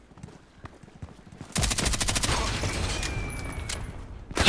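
Vintorez sniper rifle gunfire in a deathmatch video game: quiet at first, then from about midway a dense, loud stretch of rapid shots and explosions runs unbroken to the end, with a sharp burst right at the close.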